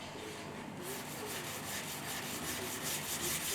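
Sanding thick primer on the roof panel of a turbocharged four-wheel-drive Austin Mini, a close steady abrasive rasp with quick back-and-forth strokes.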